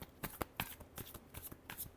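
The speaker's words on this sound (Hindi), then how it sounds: "Last shuffle." Tarot cards being shuffled in quick, crisp riffling bursts, several sharp flicks in a row over two seconds, close and fairly quiet.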